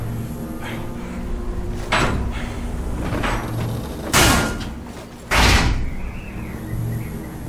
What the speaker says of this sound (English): You can barely open the door